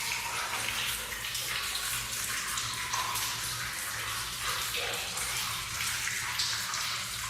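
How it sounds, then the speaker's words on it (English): Water trickles and drips steadily inside an old mine tunnel, a continuous broadband wash with a low rumble beneath, moderately loud throughout with no talking. "There's water dripping, which drowns out the sound somewhat"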